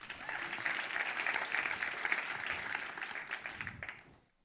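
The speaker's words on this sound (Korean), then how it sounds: "와, 이곳 강당의 함성 소리가 들리네요." Audience in an auditorium cheering and applauding, a steady wash of clapping and crowd noise lasting about four seconds before cutting off abruptly.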